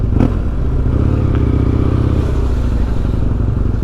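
A motorcycle engine runs loud and close while riding, a steady throaty drone with a sharp clatter near the start.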